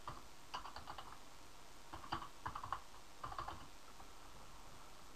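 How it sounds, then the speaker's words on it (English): Typing on a computer keyboard: several short bursts of quick key clicks separated by pauses, faint and close, with no talking. "I'm just going to type in my name."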